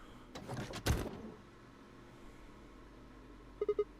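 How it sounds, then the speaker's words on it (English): A door in the video game Zero Escape: Virtue's Last Reward is thrown open with a short rattling burst followed by a hollow thud, then quiet room tone and three quick soft beeps. "I swallowed and threw open the door."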